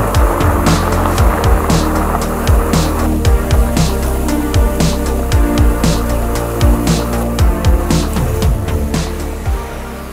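Surly fat bike coasting and braking down a steep grade, with a steady rumble of wide tires on rough ground, repeated clicks and rattles from the bike, and a continuous broadband wash throughout.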